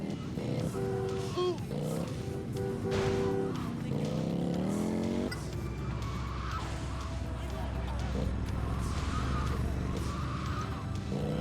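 In GTA Vice City Stories on PS2, a game car accelerates and skids with tire squeals and shifting engine tones under continuous background music, loud and steady throughout.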